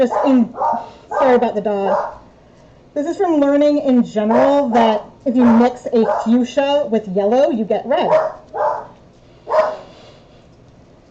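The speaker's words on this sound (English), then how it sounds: "sorry about the dog." A dog barks in a home during a live yarn-dyeing session, a few short yips mixed in with someone talking steadily over it.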